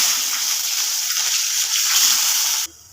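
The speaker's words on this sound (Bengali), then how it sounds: "এখন আমি পেঁয়াজটা দিয়ে দেবো।" Sliced onions hit hot oil in a wok already tempered with dried red chillies, cumin seeds and bay leaves, giving a loud, steady, close-up sizzle that holds for a few seconds and then cuts off abruptly.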